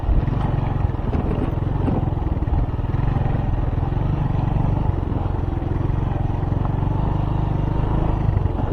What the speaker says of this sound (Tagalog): Marami pa naka-inbound na mga sasakyan dito. Kutsi, mga motor.